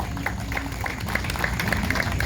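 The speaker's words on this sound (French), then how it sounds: "Sous vos applaudissements, bien sûr, s'il vous plaît" Audience applause at an English institute graduation ceremony, a dense patter of many hands clapping steadily at medium distance, with faint voices mixed in.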